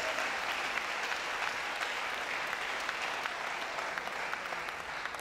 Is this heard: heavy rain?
no